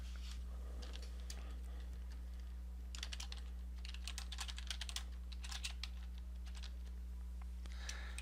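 Text is typed on a computer keyboard in quiet, close bursts of clicking keystrokes, with short pauses between them, over a steady low electrical hum.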